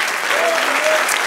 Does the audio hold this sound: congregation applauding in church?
yes